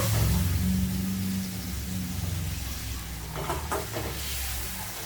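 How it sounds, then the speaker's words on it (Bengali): Spice paste sizzles and fries in oil for a hilsa fish curry with brinjal and taro stems, a steady close sizzle with a low hum early on and a few scraping stirs near the end, no voices. "এইবারে মশলাটা একটুখানি কষিয়ে নেব"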